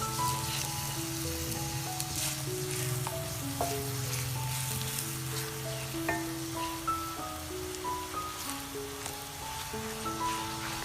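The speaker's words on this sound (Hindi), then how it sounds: "तो प्याज को हम अच्छा ब्राउन करने तक फ्राई करेंगे।" Salted onions frying in oil toward brown for chicken biryani, a quiet, continuous crackling sizzle with faint stirring, heard beneath a melodic background tune with no speech.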